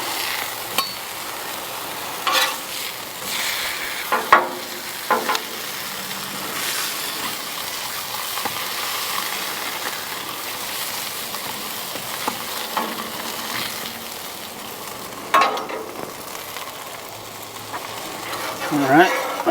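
Kielbasa sausages sizzle steadily on a Blackstone 36-inch flat-top griddle while being flipped, with a continuous frying hiss broken by scattered scrapes and clacks of a spatula, and a person talking at times.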